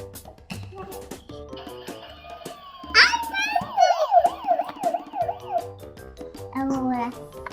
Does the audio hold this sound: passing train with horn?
no